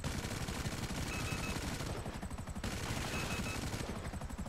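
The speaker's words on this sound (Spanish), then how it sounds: "Saca la ametralladora" Rapid machine-gun fire from GTA San Andreas, sustained and loud across the whole stretch, in dense bursts with brief shifts in tone, no talk over it.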